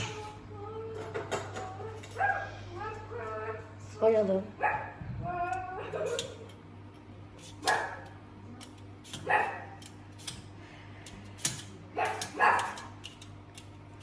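A person imitates a dog with a string of yelping barks and whimpers, voiced in short bursts between bits of speech, close to the mic.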